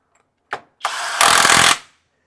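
A Kobalt 24V brushless mid-torque 1/2-inch impact wrench in hand-tight mode: a short whir, then a rising motor spin that breaks into a loud, rapid hammering burst of about half a second before cutting off.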